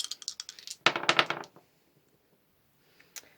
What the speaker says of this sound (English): we're going to roll these astro dice